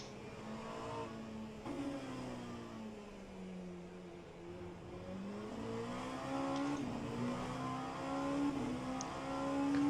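A BMW race car in the rFactor 2 sim, racing at the 8 Hours of Road Atlanta endurance event, drones steadily with its engine pitch rising and falling through shifts and corners, loud and continuous throughout.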